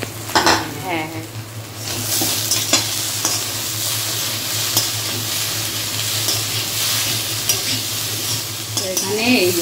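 Prawns fried earlier are stirred with chilli, cumin and coriander powders in a hot pan for a dry okra, potato and prawn dish: a steady loud sizzle runs throughout, broken by scraping stirs and clinks of utensil on metal.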